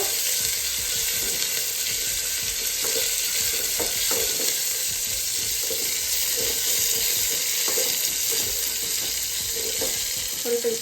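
Onions frying and being stirred in a pan for menthe sambar, a steady close sizzle throughout with scattered scraping and clinking of the spoon against the vessel, no voices.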